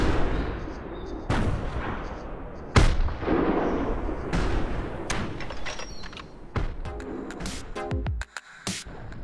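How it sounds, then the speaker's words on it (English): Rifle shots in theHunter 2017 hunting game striking an animal: several sharp, loud cracks with rumbling tails at irregular intervals, the strongest near the middle, over steady outdoor ambience. "as soon as we shot, he definitely went down"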